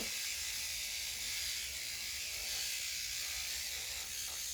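A high, steady whirring hiss of a small electric nail drill with a sanding band grinding continuously on gel nail, close up, with no voices.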